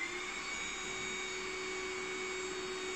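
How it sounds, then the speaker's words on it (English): An electric air pump runs steadily while inflating an Outwell Lake Superior inflatable sofa. It gives a continuous, even whirring drone with a fixed whine that stays constant from start to finish. No voices are heard. "I'm just going to use the pump as it should be used."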